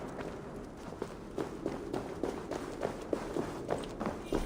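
Footsteps approach in a video game, a steady series of soft thuds building in rhythm over a low rumbling background, no voices.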